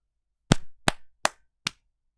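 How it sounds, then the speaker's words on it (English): Four sharp hand claps spaced roughly evenly over a second and a half, loud and close with a short ringing tail, alone with no talk. "so insert random claps"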